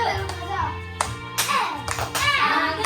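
Children in a church kids' class clap along in time during a cheerful train-themed praise song, with irregular bursts of hand claps mixed with singing and young voices throughout.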